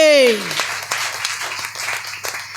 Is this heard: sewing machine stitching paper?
no